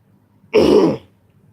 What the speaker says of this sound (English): I really need to clear my throat.